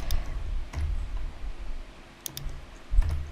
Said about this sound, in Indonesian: Kalian tinggal tekan backspace untuk hapus.